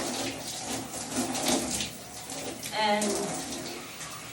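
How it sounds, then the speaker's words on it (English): Shower water running while product is rinsed out of hair, a continuous close spray with splashes, under someone talking. "So now I'm washing that Moremo out of my hair."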